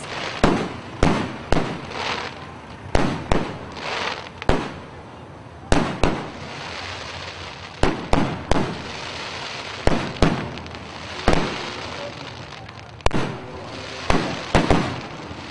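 A festival-closing fireworks display at the Pasayaw Festival in Canlaon City: loud, sharp explosive bangs burst at irregular intervals, each trailing off in crackling rumble, with no talk.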